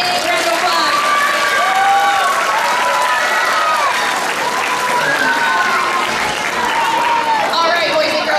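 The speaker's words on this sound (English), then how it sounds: "Let's give her another big round of applause." A room of schoolchildren gives a classmate a loud round of applause, dense clapping mixed with shrill cheers and whoops rising over it, steady for the whole stretch.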